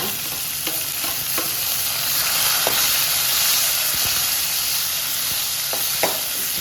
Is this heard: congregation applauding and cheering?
no